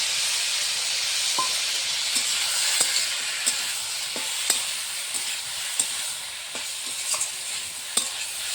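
Fish curry masala of ginger, cumin and chili paste sautéing in a pan, a steady bright sizzle with sharp clicks of stirring scattered throughout, close and continuous.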